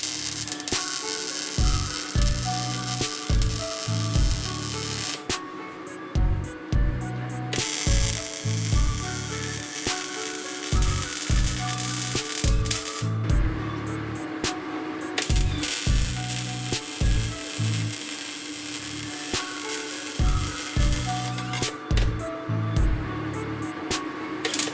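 Welding on a fabricated car part for a 2JZ engine build crackles and sizzles in repeated bursts, each arc run lasting a few seconds and separated by brief pauses, loud and close with no talking.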